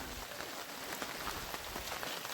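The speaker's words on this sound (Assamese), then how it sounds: "এই বৰষুণত চাওকচোন কি বৰষুণ দি আছে" Rain falling steadily in an outdoor setting: a faint, even patter and hiss of drops continues evenly throughout, with no voices.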